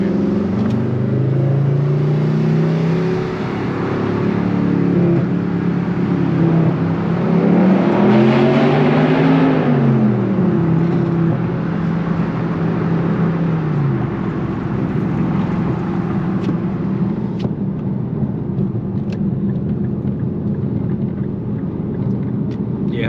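A straight-piped Infiniti M56 engine drones steadily with a rising and falling rev, its rumble echoing loudly while passing under a bridge, with faint road noise throughout.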